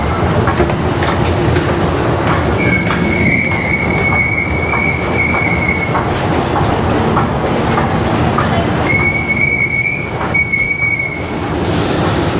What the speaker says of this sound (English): Delightful sound on the escalator